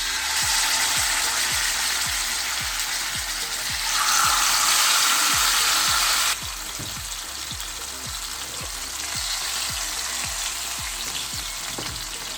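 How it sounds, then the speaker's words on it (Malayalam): Pearl spot fish frying in hot coconut oil makes a steady loud sizzle that swells for a few seconds and then settles, with faint regular clicking underneath throughout. "എണ്ണ ചൂടായിട്ടുണ്ട്. കരിമീൻ ഇട്ട് കൊടുക്കാം."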